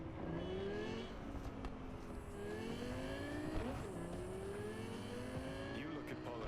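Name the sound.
loud car engine revving in the video game Cyberpunk 2077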